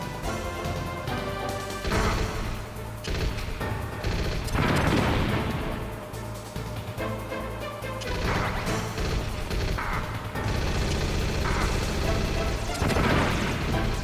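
Loud, continuous game combat audio from Metal Gear Solid, with a grenade blast among repeated heavy crashes and booms over dense layered sound effects and music, sustained throughout without pause.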